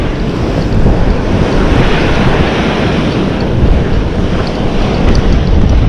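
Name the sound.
large ocean waves breaking on shore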